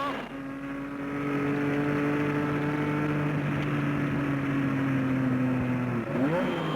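An Alpine Renault race car at Le Mans in 1978, heard from onboard, holds a loud, steady engine drone at high speed in fourth gear, with a brief shift in pitch near the end.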